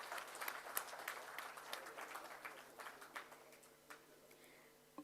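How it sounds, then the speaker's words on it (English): Applause from the audience at the opening of the Security Leadership Summit 2025, steady, fairly quiet clapping from a crowd that carries evenly through the stretch, slightly distant and easing toward the end. "Let's give ourselves a huge round of applause as we begin this day today"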